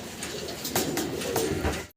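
Short-faced fancy pigeons coo in a brief, close, steady burble of several birds, cutting off abruptly at the end.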